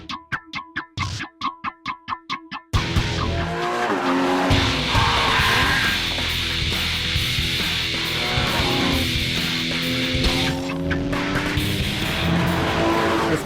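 A Porsche Cayman GTS with a 3.4-litre boxer six engine drives hard, opening with a few rapid rhythmic pulses, then a loud sustained engine note rising and falling through gear changes, alone without talk.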